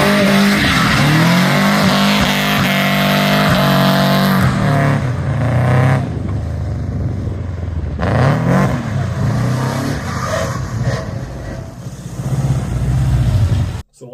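Subaru Legacy with a swapped axle drifting, engine revving hard as tires squeal loudly and continuously, pitch rising and falling through the slide, close and alone without voices.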